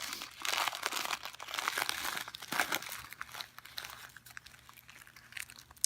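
Paper crinkles and rustles close by as a clear quartz pendulum from a subscription box is unwrapped, busy crackling at first that thins into lighter, intermittent rustles.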